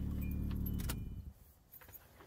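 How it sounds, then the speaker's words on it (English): A car engine idles and then cuts out while keys jangle close by, during a headlight replacement job. The engine hum stops about a second in and light key rattles follow in near quiet. "shut the car off."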